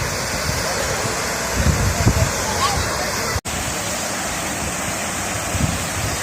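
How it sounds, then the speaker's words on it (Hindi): Roadside waterfall from a natural spring along Mughal Road, a steady broadband rush of falling water mixed with wind noise, continuous and fairly loud throughout with a brief dropout midway. "तो सामने देखिए ये झरना"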